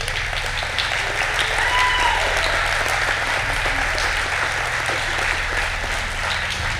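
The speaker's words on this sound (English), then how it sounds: "she needs a big round of applause" An audience at a town hall meeting in Beaver Dam applauds steadily, a loud, even wall of clapping over a low hum, with faint voices and cheers mixed in.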